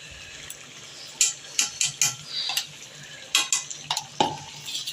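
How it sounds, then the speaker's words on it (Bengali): Jackfruit curry stirred in a pan produces repeated scraping clinks of a utensil against metal that come in quick bursts, close and clear over a soft sizzling background. "ব্যাস, এবার নাড়াচাড়া করে নামিয়ে দেবো"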